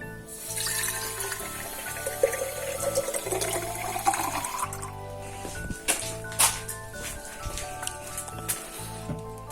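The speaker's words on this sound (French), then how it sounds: "donc j'en ai un deuxième au cas où et on va le remplir d'eau." A small glass vase fills with water, a continuous splashing trickle of running water that is fairly close and steady, with background music underneath.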